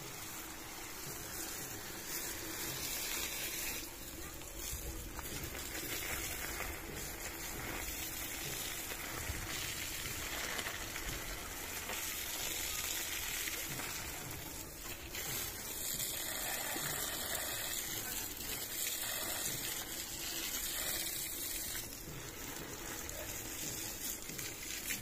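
Water pours steadily onto garden plants, eggplants among them, in a continuous loud, close splashing gush that runs without pause.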